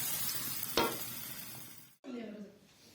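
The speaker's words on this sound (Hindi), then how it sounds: "गंदलों वाला साग देसी घी में" Mustard greens sizzle in desi ghee in a pan for sarson ka saag, a steady frying hiss with a sharp clatter near the start and a brief drop before the sizzle returns, no talk.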